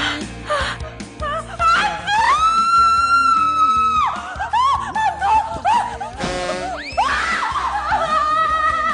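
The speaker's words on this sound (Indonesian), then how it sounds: "lu kenapa sih? Teriak-teriak mulu, takut banget lu" A person screams and wails repeatedly in high, drawn-out, pitch-bending cries, loud and close, broken by short gaps and laugh-like yelps over a steady background of music.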